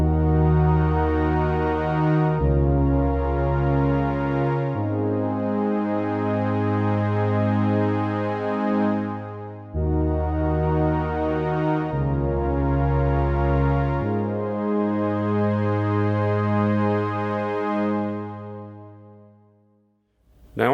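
A Waldorf Quantum synthesizer patch run through a digital filter plays sustained, harmonically rich chords and bass notes in a slow repeating progression, loud and steady throughout, fading out at the end.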